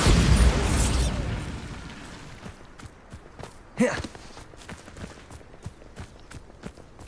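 The Bombarda explosion spell in Hogwarts Legacy bursts loudly at the start and fades out. A dull thud and soft footsteps follow.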